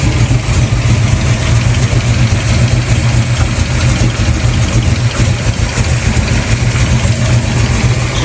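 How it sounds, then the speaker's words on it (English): A Ford Fox body car's engine runs loud and steady up close, a continuous rumbling idle with no talk over it. "let's see how it sounds"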